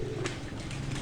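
Breeder pigeons cooing close by, a steady low burbling coo running through the whole second with soft rustling behind it.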